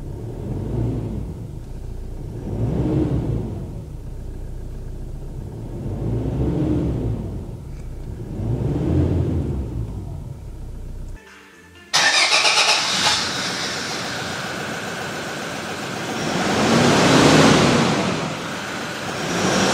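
A Toyota Hilux heard from inside the cabin: a low rumble surges and falls in several slow waves, then after a brief dip the engine catches and runs with a dense, steady, louder roar.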